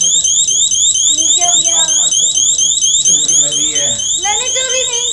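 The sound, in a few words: shop security alarm going off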